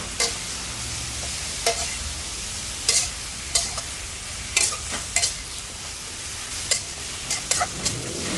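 Long eggplant is stir-fried with minced pork in a hot pan, a steady close sizzle broken by repeated scraping clacks of the spatula as the food is tossed.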